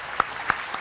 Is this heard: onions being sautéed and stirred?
no